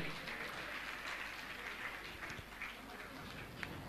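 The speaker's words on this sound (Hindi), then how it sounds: "और आप जोरदार ताली बजाकर उनका सम्मान करें।" Audience at a religious gathering applauding to honor a family, a continuous, fairly distant and soft wash of clapping with no clear individual claps.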